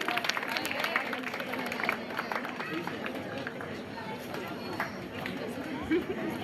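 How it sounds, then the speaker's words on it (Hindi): A crowd applauding to welcome children at a gathering, with dense, continuous clapping mixed with chatter and a voice speaking over it throughout. "चलो सभी, तालियां रुकनी नहीं चाहिए। तालियों से इन बच्चों का वेलकम करते रहेंगे।"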